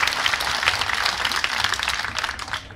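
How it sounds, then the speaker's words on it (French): Lively clapping from an audience of lawyers in Angers greeting the entrance of the bâtonnier, a dense burst of applause that fades slightly at the end. "Nous pouvons applaudir l'entrée de Madame le bâtonnier."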